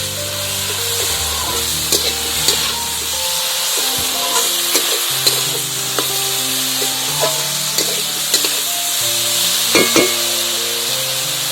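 Eggplant fries in a pan with turmeric as it is stirred, a steady soft sizzle with occasional scraping taps under quiet background music.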